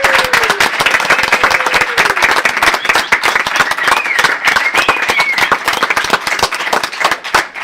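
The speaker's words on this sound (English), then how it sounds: "So big applause to everybody" A seminar audience at a circus transformation results event applauds, with dense, steady clapping from many hands filling the room near and loud throughout, with occasional whistle-like tones and faint voices mixed in.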